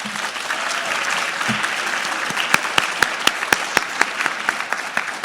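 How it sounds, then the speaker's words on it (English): Audience applause at an annual breakfast gathering: a steady wash of many hands clapping throughout, with a few louder, sharper individual claps punctuating the second half. "So I want to give them a round of applause as well."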